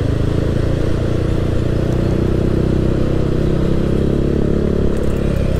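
A Yamaha Aerox scooter bored up to 200cc on the move gives off a loud, steady engine drone blended with wind and road rumble, holding an even level throughout with no voices.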